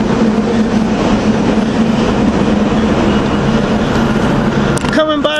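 A Silverliner IV commuter train rolls out of 30th Street Station with a steady, loud rumble and faint rhythmic wheel clatter, ending in a short burst of rising tonal whine like a horn or motor near the close.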